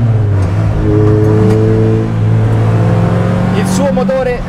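A Lotus Elise, a mid-engine rear-drive sports car with a five-speed manual gearbox, accelerates with a loud, steady engine drone that rises in pitch and then shifts, heard close throughout.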